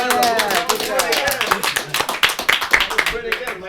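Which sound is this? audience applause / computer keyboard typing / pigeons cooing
audience applause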